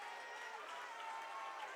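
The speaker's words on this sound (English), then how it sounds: "So Lake Mills fans will give a good cheer as they've been missing a point" Lake Mills fans at a boys basketball game raise a steady wash of cheering and clapping, crowd noise filling the gym evenly, heard from a distance and fairly faint.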